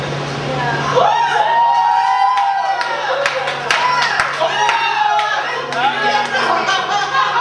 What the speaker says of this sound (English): Can we get a round of applause for equality up in here?